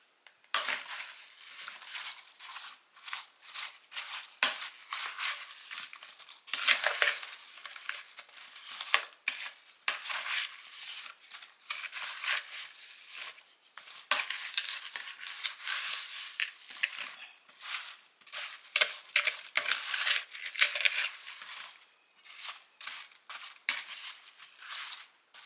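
Sugar substitute, cinnamon and nutmeg being mixed in a bowl, with irregular scraping and clinking of a utensil against the dish, quiet and close, no talking.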